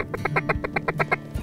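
A drake mallard gives a quick run of about eight quacks in a steady rhythm, fairly close and clear, during a duck hunt.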